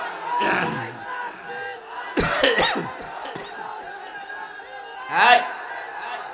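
A crowd at a religious gathering shouts takbir in several loud collective bursts separated by quieter gaps, with scattered voices and coughs between the shouts.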